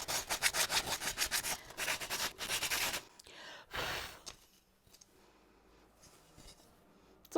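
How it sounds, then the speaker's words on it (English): Hand sanding of a homemade wooden play-button disc with holes through its middle, rhythmic rubbing strokes close up for about three seconds, then quieter intermittent scraping and handling. "So now I need to sand it."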